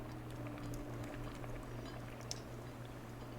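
Food bubbles away in the survival game Raft as a faint, steady simmer with scattered soft pops and ticks under a low hum. No one speaks.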